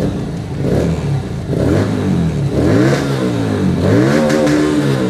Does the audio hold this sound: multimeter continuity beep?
no